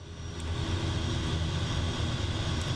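Aircraft engine held at low idle in a flight simulator at Lord Howe Island, Australia: a steady, loud, continuous drone with a low rumble and a faint high whine, unchanging throughout.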